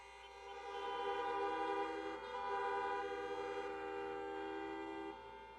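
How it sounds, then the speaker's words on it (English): Sustained honking from car horns at an outdoor drive-in political rally, with overlapping tones swelling and holding for several seconds, loud and steady with no talk over it. "Honk if you know anybody with diabetes."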